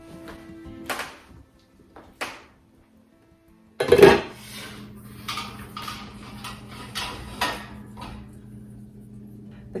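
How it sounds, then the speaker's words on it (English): The metal lid comes off a water bath canning pot holding jars of cranberry juice with one loud clanking rattle midway, set among softer kitchen knocks and followed by a steady low hum. "Then I'm gonna take the lid off and give it 5 minutes to just gradually cool down before I take these out."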